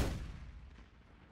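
A video game cannon fires during a 12-versus-15 team battle: a single heavy, close blast that booms and then rumbles away, with no voices.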